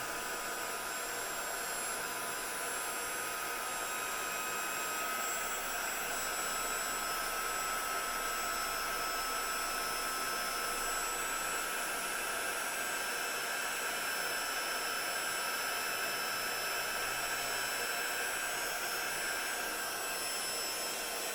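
A heat tool melts embossing powder with a loud, steady blowing hiss that runs unbroken for the whole clip, close and alone.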